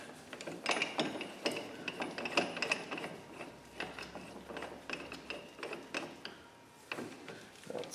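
A ratchet clicks in quick, close bursts as it tightens a nut on a Subaru rear wheel bearing, the rapid pawl ticks repeating with short pauses between strokes.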